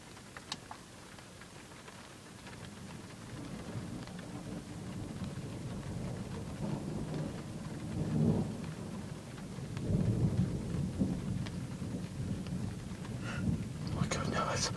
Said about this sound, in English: so we can actually hear the thunder a little better